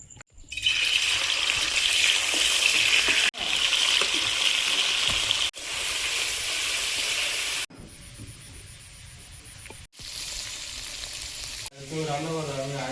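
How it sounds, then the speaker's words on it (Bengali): Paneer pieces spit and sizzle loudly in hot oil in a wok, a dense crackling frying noise that runs in several bursts with brief cuts between them, close and steady, with no voices. "পনিরগুলো ভেজে নেব।"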